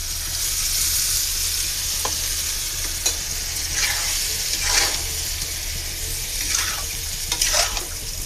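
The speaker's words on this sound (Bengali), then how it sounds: "বেগুনটা দেখুন কষে গেছে, বেগুনটা ফুটতেছে।" Eggplant and potato pieces fry and bubble in spice paste with a little water, a steady close sizzle broken by scraping stirs of a spoon against the pan.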